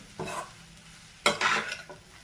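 Leftover chapati cut into noodle strips gets stirred and tossed in a pan, two bursts of scraping and light sizzling with a brief lull between, close and fairly quiet.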